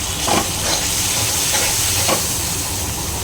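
Tomatoes with red chili powder and salt being stirred in a pan for Kathiyawadi gathiya curry, a steady sizzling hiss with a few soft scraping strokes of the spoon, no voices.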